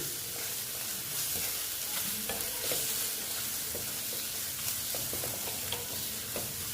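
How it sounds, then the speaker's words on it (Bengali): Boal fish curry masala seasoned with chilli powder and salt being stir-fried in a pan, with a steady sizzle and scattered scraping clicks of a spatula throughout, close and alone. "এবার আমি এটাকে কষিয়ে নিচ্ছি"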